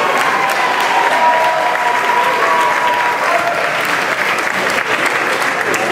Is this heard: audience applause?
yes